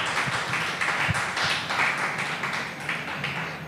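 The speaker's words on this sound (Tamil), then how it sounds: "ஆண்டவருக்காக ஒரு கைத்தட்டு தரலாமா பாருங்க?" A church congregation clapping hands together during a morning devotion service: dense, rhythmic applause-like claps with a steady beat, with no clear speech.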